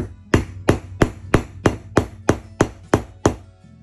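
Nine evenly spaced metal taps of a hammer striking a snap-button setting tool pressed into a leather snap fastener, sharp, close and alone, each with a short ringing decay.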